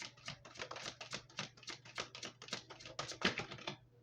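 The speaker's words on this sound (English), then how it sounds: "I feel like I can't stop shuffling it." Tarot cards shuffled continuously in a rapid run of crisp, close papery clicks and riffles with a low steady hum underneath, no talking.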